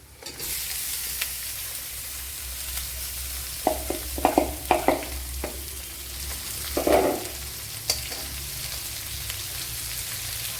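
Lemon pieces frying and being stirred in a pan for lemon pickle, with crushed mustard seed already in: a steady close sizzle with a cluster of scraping stir strokes in the middle and another burst shortly after.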